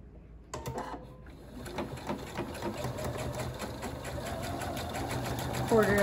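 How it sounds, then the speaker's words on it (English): Rapid, even whirring of a sewing machine stitching a quilt seam close by, starting after a brief quiet moment and running steadily with a slight rise near the end. "So let me just take this to the sewing machine."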